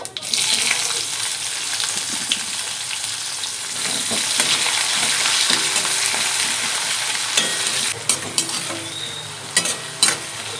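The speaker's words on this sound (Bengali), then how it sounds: "পেঁয়াজ ভাজা হয়ে গেছে" Chopped onions sizzle steadily in oil in a wok, a bright continuous frying hiss with occasional stirring scrapes and clinks, loud and close throughout.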